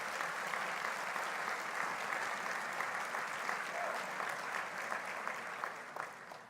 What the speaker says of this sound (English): So Patty Winter, she does not want an applause, but she deserves it